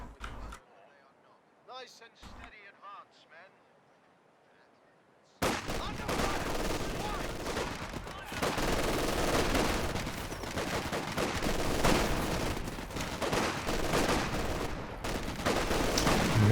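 Light machine gun fire from LMG Grenadiers in Company of Heroes 2 as an officer charges their heavy cover: dense, continuous bursts of gunfire and battle noise erupt loudly after a few seconds of quiet sounds.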